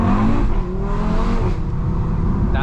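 A 515 bhp turbocharged Audi RS3 on Michelin tyres accelerates hard from inside the cabin, its engine note rising as a loud, continuous drone.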